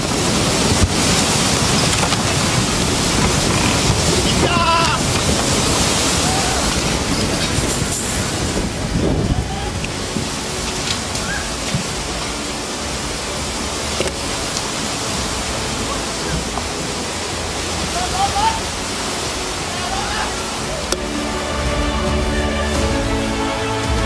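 Large tsunami waves surge onto a tourist shore in Aceh, a dense, continuous roaring rush of water that stays loud throughout, with scattered bursts and faint voices mixed in.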